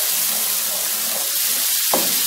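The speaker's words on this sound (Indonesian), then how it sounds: "ditumis ya. Ini aroma bumbunya udah sangat harum" Galangal and lemongrass sizzle and fry steadily in a pan for gulai daun ubi, a constant hiss throughout with one brief stirring scrape near the end.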